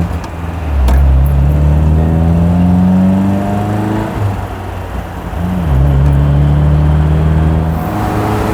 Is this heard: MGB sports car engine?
yes